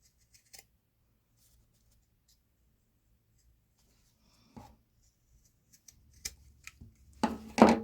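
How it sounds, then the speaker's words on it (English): Pinking shears snip along the edges of fabric scraps, sparse faint clicks after long quiet, then a denser burst of close cutting and rustling at the end. "I just cut the edges with my pinking shears and just finished it up that way"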